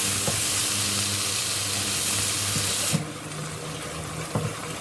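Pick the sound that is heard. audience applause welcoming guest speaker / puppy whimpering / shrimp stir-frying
shrimp stir-frying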